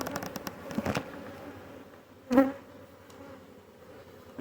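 Faint buzzing of bees at a hive in January close by, with a short louder buzz as a bee passes near midway, against a quiet outdoor background.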